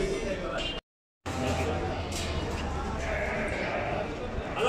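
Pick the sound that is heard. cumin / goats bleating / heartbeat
goats bleating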